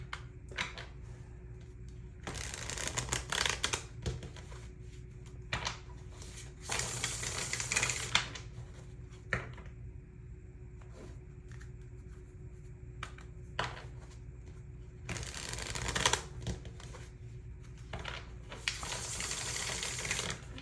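Tarot cards are shuffled in several quick riffling bursts, separated by quieter stretches of soft handling, close and fairly faint.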